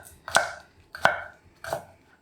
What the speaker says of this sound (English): Also want to chop up some of my spring onion.